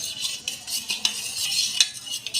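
A spoon stirring cocoa powder and cardamom powder into milk in a bowl, rapid clinking scrapes and swirls repeating in an even rhythm, close and clear with no talking.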